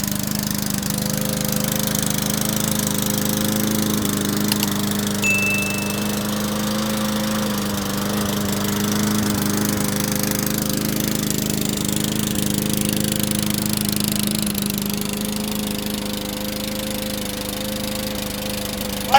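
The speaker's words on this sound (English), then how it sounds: "We got this mower running perfect!" A swapped-engine lawn mower runs steadily, a loud continuous drone with a constant pitch and a slight rough undertone, holding even throughout with no voices.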